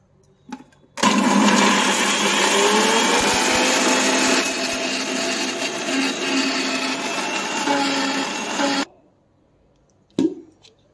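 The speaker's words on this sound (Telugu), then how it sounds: "ఇవి వేసేసుకుని ఒకసారి అయితే మిక్సీ పట్టేద్దాం" A kitchen mixer grinder grinds garlic and cumin seeds for a ridge-gourd peel chutney: about eight seconds of loud, steady whirring motor with blade rattle, which starts abruptly and cuts off, followed by a short knock.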